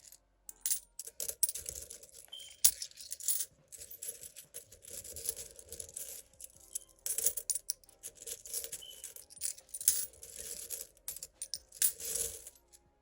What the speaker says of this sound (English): Separate the coins.